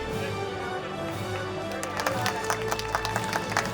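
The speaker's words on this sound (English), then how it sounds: "Big round of applause" Applause at a sports meet awards ceremony for a medalist, a faint crowd clapping that picks up in sharper scattered claps toward the end, with some background voices.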